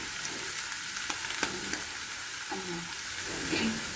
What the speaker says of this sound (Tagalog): So, lutuin po natin ang ating talong.